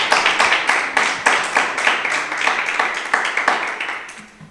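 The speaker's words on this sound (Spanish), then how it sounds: "Dale un fuerte aplauso a Jesús." Applause at a church New Year service, with rhythmic clapping beating steadily and fairly loud throughout, fading slightly near the end.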